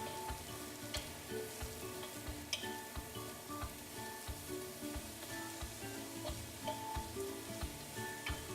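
Carrots and celery sizzle in a pan while being stir-fried for vegetable lumpia filling, a steady close crackle broken by regular clicking scrapes of stirring, with no talking.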